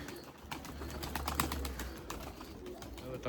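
A young Erzurum white pigeon calls from somewhere in the loft, soft cooing and faint chirps rising through a busy background of bird sounds, not close to the listener.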